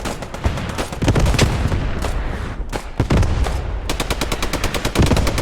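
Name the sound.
mortars falling and gunfire in a war video game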